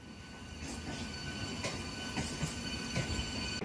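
A train at Santragachi railway station heard from an overbridge: a steady rolling rumble with squealing wheels and a few sharp metallic clicks, moderately distant.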